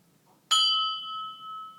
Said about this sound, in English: Do you want me to do 3 bells?